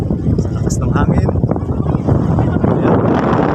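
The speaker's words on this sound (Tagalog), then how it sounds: "Sa lakas ng hangin." Strong wind buffets the microphone at a hanging bridge in barangay Bangkal, a steady loud roar with gusty low rumble filling the whole clip, no voices.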